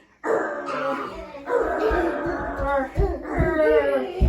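A dog barks in short repeated bursts, three clear yelping barks with whimpering tones over a children's phonics song, close and fairly loud.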